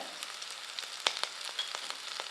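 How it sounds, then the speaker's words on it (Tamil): Shallots, garlic and curry leaves sauté in oil in a pan, giving a quiet, steady sizzle with small crackling pops and no voices. "இதெல்லாம் நல்லா வதங்கட்டும்"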